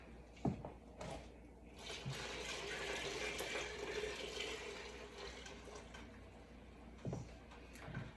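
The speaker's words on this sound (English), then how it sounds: "And so now we're gonna go ahead and add in the shrimp stock." Shrimp stock pours steadily into a seafood gumbo pot, a continuous soft liquid rush of splashing that runs the whole stretch, with a couple of brief knocks near the start and end.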